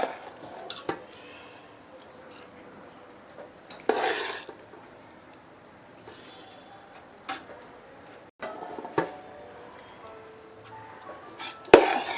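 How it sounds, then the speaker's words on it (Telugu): Rice being added to a pot of chicken dum biryani: scattered soft scrapes and clinks of a spoon against the pot, with pours and knocks at irregular intervals and quiet stretches between, mostly without talk. "ఇది మొత్తం రైస్ అంతా వేసేద్దాం"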